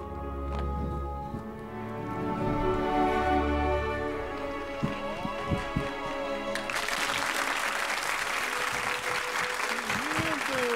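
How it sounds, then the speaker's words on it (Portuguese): A circus audience breaks into applause after a stretch of music and voices. The clapping from the crowd starts partway through and keeps up dense and lively to the end. "Aplausos para a Dini!"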